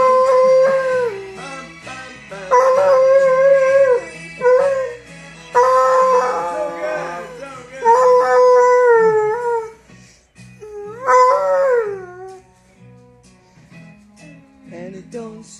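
A hound dog howling along to a song, long loud wavering howls rising and falling in repeated bursts, close to the listener, with brief whimpers between phrases.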